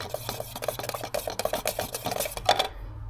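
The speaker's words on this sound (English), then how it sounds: "where I'm stirring this up on the side of the can" Old car paint is stirred in a can, a close series of irregular scraping and knocking strokes against the can's side, quick and uneven, ending abruptly.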